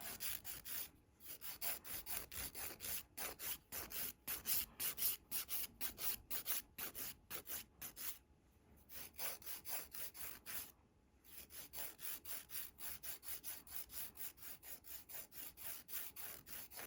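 Nail file rubbing against short acrylic nails during an at-home manicure, a quiet rapid series of raspy back-and-forth strokes with brief pauses between bursts, close and alone.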